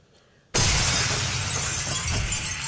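Glass shatters with a sudden loud crash, then a dense, sustained spray of breaking shards and crackle that stays bright and harsh for two seconds after a quiet moment, with no voices.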